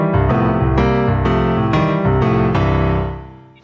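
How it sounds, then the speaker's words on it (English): Roland RP-101 upright digital piano sounding its sampled world-class concert grand voice: a series of loud, rich struck notes and chords in steady rhythm, ringing out and fading at the end, played alone. "Roland records the piano sound from a world-class concert grand piano, and this is the first sound you hear when you turn on the RP-101"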